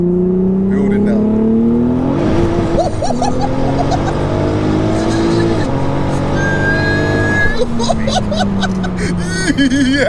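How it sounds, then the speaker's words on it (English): A tuned 1187 bhp VW Golf R revs hard with wheel spin, its loud, close engine note rising and falling with tyre squeal while people talk over it. "Yes. Wheel spin."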